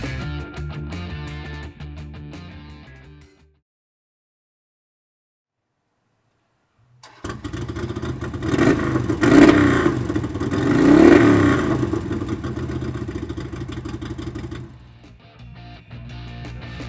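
A 2009 Harley-Davidson Sportster 883 Low V-twin fitted with a Vance & Hines exhaust revs loudly and up close after a brief silence, rising through two strong throttle blips before settling back to a lumpy idle.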